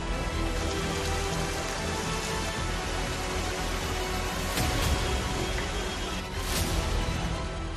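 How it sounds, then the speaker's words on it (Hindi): Sudden heavy rain in Kargil pours down steadily, a loud, dense wash of drops drumming on surfaces throughout with no voices. "करगिल में अचानक तेज बारिश से अफरा तफरी।"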